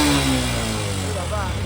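A motorbike, recently repaired after an accident, is ridden with its engine revving steadily in a low, continuous drone that holds at a fairly constant loudness throughout.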